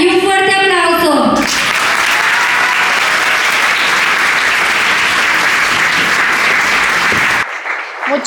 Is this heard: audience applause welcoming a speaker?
yes